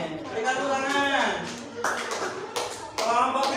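Classroom applause with a few bursts of clapping, set against a voice that talks over most of it; the claps arrive in short clusters rather than a sustained ovation.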